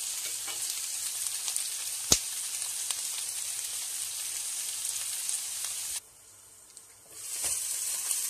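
Chicken sautéing in a pan for a Turkish chicken sauté, a dense continuous sizzle and crackle heard up close, with a few sharp clinks of stirring, then a sudden drop in intensity before the frying swells again.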